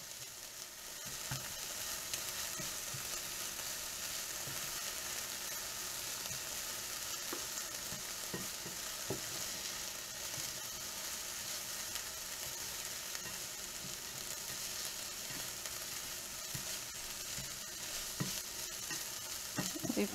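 Onions for sauteed mushrooms with kale brown in a pan under a continuous sizzle, with scattered scrapes and taps of stirring recurring throughout, close and without talk.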